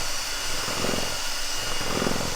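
A power drill mixing eggs drones with a steady, loud motor whine without pause, with a faint rhythmic churning underneath.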